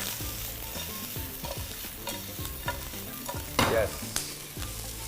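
Masala for a Karnataka-style chicken curry roasts in a pan while being stirred, giving repeated close scraping strokes and a soft continuous sizzle, with one sharper clatter of the spoon partway through.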